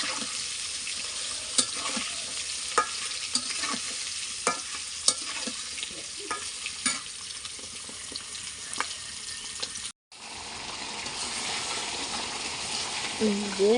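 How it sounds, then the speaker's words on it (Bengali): Eggs being stir-fried bhuna-style in a pan give a steady, close sizzle broken by repeated sharp scrapes and taps of a spatula, with a brief gap near the end before the frying resumes. "এখন ডিমগুলোকে ভুনা করে নেব"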